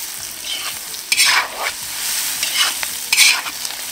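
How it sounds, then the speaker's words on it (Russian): Onion and potatoes frying in a kazan are stirred, a steady loud sizzle with a few scraping strokes of the stirring utensil across the pot, close up and with no voices. "Перемешиваем."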